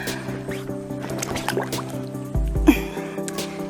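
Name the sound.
water leaking from pool filter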